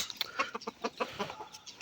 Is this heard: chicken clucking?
yes